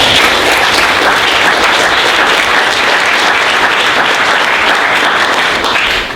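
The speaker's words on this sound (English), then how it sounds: "So let's give another round of applause." A full round of loud, sustained applause fills the room at a tech startup demo day, steady from start to finish before tapering off at the very end.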